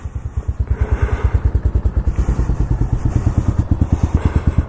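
A 2019 Pitster Pro XTR 250 dirt bike engine runs steadily close by, its rapid, even thumping pulses holding at a fast idle throughout with no voices.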